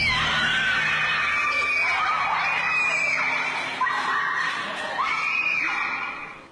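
People scream in panic in a scary video, shrill high-pitched voices overlapping in repeated bursts, loud and continuous before trailing off at the end.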